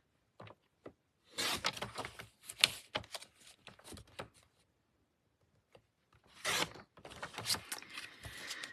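A paper trimmer slices designer paper into strips at a craft table, with several separate bursts of sliding and scraping divided by silent pauses.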